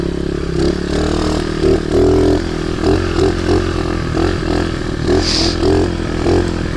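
Small pit bike engine running steadily off-road, a low throbbing drone with rhythmic surges and clattering, revving up and down through the whole stretch with no talk over it.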